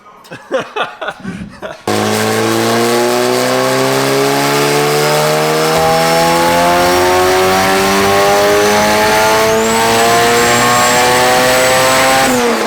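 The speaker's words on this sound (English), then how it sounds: "we're probably gonna spin the tires on the dyno now" Turbocharged Honda B18C engine screams at full throttle on a dyno, a loud sustained roar with rising harmonics climbing through the revs after brief chatter and laughter at the start.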